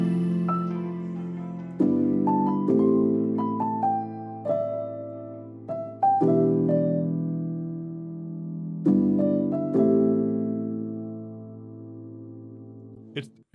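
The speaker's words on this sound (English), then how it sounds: "I've just introduced a beautiful piano solo." A lo-fi piano solo plays a chord progression with added top notes, several sustained chords struck in turn with melodic notes ringing above, each decaying before the next, clear and alone.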